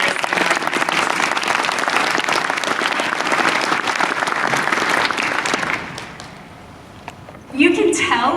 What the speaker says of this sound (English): please let's give a very big round of applause to all our volunteers.